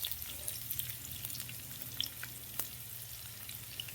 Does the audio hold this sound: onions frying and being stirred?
yes